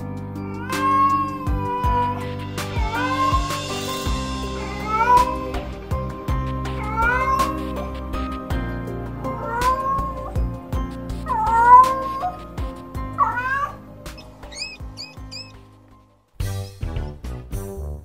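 A white cat meows repeatedly, long plaintive cries every couple of seconds over a soft musical backdrop, close and clear.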